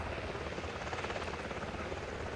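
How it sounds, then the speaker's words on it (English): Helicopters land in an Armored Warfare video game cutscene, a dense continuous rotor thrum and engine roar at low level, steady throughout with no voices. "Some helicopters landing."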